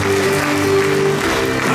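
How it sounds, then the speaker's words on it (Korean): Audience applause welcoming a speaker at a Catholic charismatic gathering in Incheon, a loud steady patter of many hands clapping with a held musical tone underneath. "큰 박수로 모시겠습니다."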